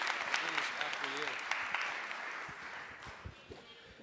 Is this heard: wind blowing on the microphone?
no